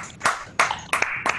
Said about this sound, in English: give me a big hand and big applause for this class